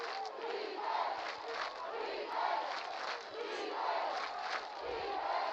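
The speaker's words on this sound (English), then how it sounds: "the crowd over from Los Fresnos is making some noise already to kick things off" Football crowd from Los Fresnos roaring and chanting at a UIL area-round high school game at night, a steady loud wash of cheering voices rising and falling in waves throughout.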